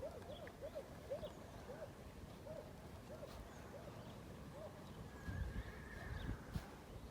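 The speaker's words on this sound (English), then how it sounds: "There's horses neighing and dogs barking and everything going on here." Horses whinny again and again in a distant outdoor setting near a shed, with dogs barking, repeated neighs rising and falling over a steady rustling background.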